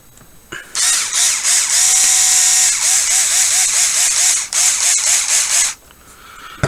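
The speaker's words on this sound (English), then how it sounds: "whenever you're running in the plastic with a power driver, never go all the way tight with it" A power driver running screws into plastic during a sway bar install, a loud, close, high-pitched whirring motor in one sustained burst with quick stutters and a brief dip, starting and stopping abruptly.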